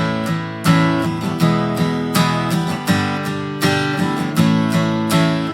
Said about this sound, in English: But then the verse strumming, you can take a choice on how you want to do this.